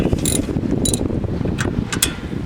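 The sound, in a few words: ratchet snugging brake caliper bolts on Dodge Ram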